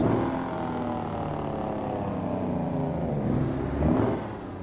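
A Mack R truck with an inline six-cylinder Detroit diesel drives in American Truck Simulator, giving a steady, loud diesel drone with a faint high whine above it and a brief swell near the end.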